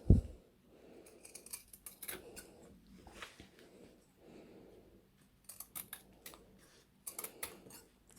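Scissors snip through fabric while trimming the corners of a sewn pillowcase, with a string of close, crisp cuts in short bursts separated by brief pauses.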